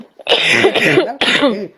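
A person coughs in a rough, harsh burst, then coughs again after a short pause, loud and close, with no talking.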